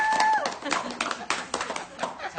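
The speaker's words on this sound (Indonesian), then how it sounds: "Tepuk tangan dong." An audience claps at a live talk, a scattered run of hand claps rising and falling in bursts with voices underneath.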